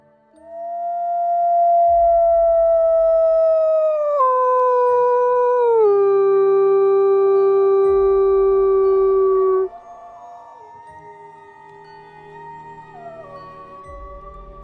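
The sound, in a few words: long howl of an asu baung, horror story sound effect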